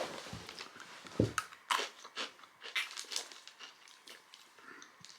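Close, crisp crunching of mini herb-flavoured Turkish snacks being bitten and chewed in several quick bursts, fading to softer chews.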